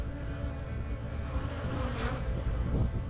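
A steady, close hum of honeybees swarms over a colony frame where young bees are hatching, the buzzing dense and unbroken throughout without voices.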